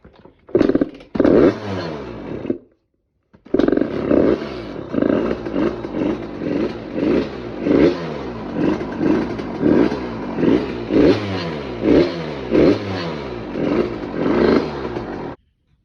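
A small two-stroke Yamaha RM80 motorcycle engine under rebuild sputters, cuts out briefly, then catches and runs loud and close, revving repeatedly in rising and falling bursts throughout.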